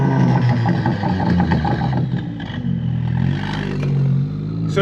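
An Audi S3 8V engine runs with its exhaust valve open, a deep rumbling idle with rough clattering pulses that rises and settles, close and loud, with no talk.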